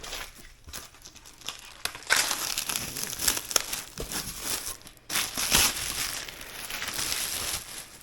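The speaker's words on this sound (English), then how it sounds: "get this thing taken out of the plastic" A skateboard deck is pulled out of its plastic wrapping, giving loud, continuous crinkling and tearing of plastic at close range, with brief pauses between bursts.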